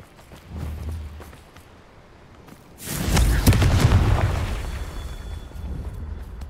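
Confringo fire-spell explosions in the Hogwarts Legacy video game, a loud booming blast that rolls into a long rumbling roar and crackle, following an earlier softer burst.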